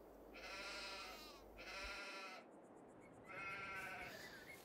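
Sheep from two separate breeds kept in barns bleat in Farming Simulator 22, with several loud, drawn-out bleats in a row and short gaps between them.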